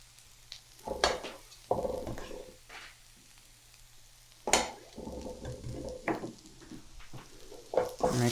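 Garlic and onions frying in a pan are stirred with a utensil, giving soft sizzling under intermittent scraping and clattering knocks against the pan, fairly quiet and close.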